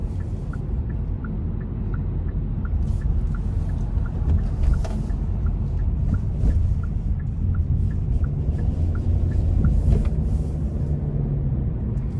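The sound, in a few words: 2024 Hyundai Venue 1.6 four-cylinder engine accelerating onto interstate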